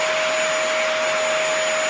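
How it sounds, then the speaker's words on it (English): A Hoover vacuum cleaner runs at full power, a steady, loud whooshing roar with a thin high whine that never changes pitch and continues without a break, with no voices. "A vacuum. A Hoover vac."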